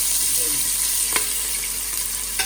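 Oil hisses steadily in a karahi for beef, a close, even sizzle throughout with a couple of soft utensil knocks, no talking.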